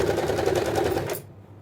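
A sewing machine stitches a fabric hem for panties, giving a fast, even mechanical rattle up close that stops abruptly, leaving near silence.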